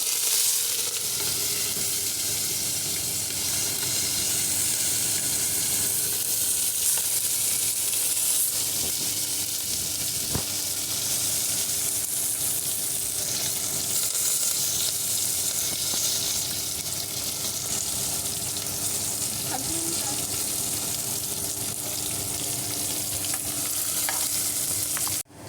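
Onions and green chillies fry in a pan for sambar, a steady close sizzle with occasional stirring clatter, continuous and loud throughout with no talking.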